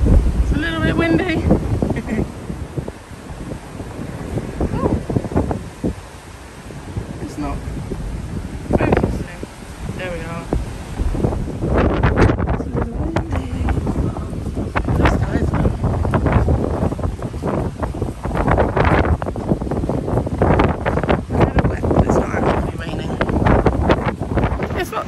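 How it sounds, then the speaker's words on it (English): Strong wind buffets the microphone in continuous gusts on the open promenade deck of the P&O Iona cruise ship at sea, with a low roar of moving air and water and a voice speaking intermittently underneath. "It's a little bit windy"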